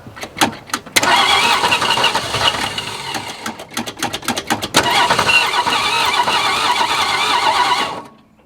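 An abandoned, long-neglected 1961 Ford Falcon engine being cranked: a few short starter bursts, then two long, loud churning cranks with uneven pulsing that end abruptly without the engine catching.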